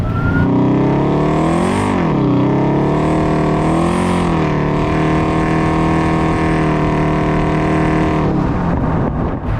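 A modified 1100-horsepower Chevrolet C10 pickup's engine revs hard and climbs through gears, its harmonic roar rising and dipping in pitch as the truck accelerates close by.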